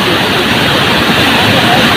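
Strong current of the hilly Ichamati river with big waves, a dense, steady rushing roar of water that fills the whole stretch, loud and close with no pauses.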